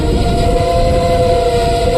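Train pulling in and braking on the line near Jetpur: a sustained, loud brake squeal holds steady over a dense low rumble for two seconds, with no talk.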